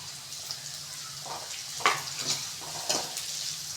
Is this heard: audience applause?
no